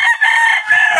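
A gamecock being prepared for cockfighting derbies crows loudly and close by in one drawn-out, wavering call.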